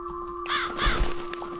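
A crow caws twice in quick succession in the horror video game The Cat Lady, loud and close over a steady electronic hum, with no talk.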